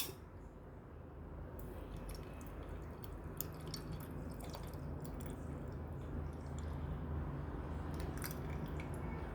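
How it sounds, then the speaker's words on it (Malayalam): Buttermilk is poured over crushed ingredients for spiced sambharam, giving faint wet drips and splashes against a quiet room background. "ചതച്ചതെല്ലാം ഇതിലേക്ക് ഇട്ടു കേട്ടോ നമുക്ക് മോരൊഴിച്ച് കൊടുക്കാം"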